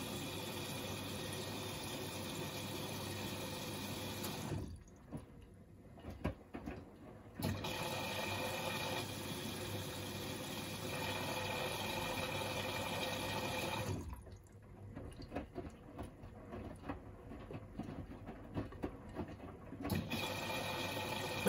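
A washing machine fills with water for a large laundry load, a steady hissing inflow that cuts out twice and returns, fairly faint and heard alone.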